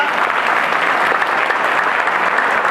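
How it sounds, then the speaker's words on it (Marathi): An audience at a large Buddhist Dhamma gathering claps, a dense, even burst of applause that stays steady and close for a few seconds without any speech. "एकदा स्वतःसाठी पण टाळ्या वाजवा."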